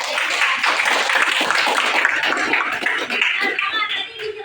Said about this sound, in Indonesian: kasih tepuk tangan buat Isha